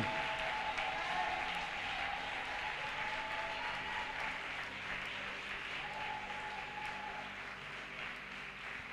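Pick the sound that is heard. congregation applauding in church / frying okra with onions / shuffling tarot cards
congregation applauding in church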